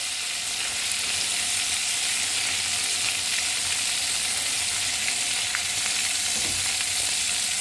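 Continuous loud sizzling of butter in a hot frying pan while pan-searing scallops, steady crackle and hiss with small pops, close up and without talk.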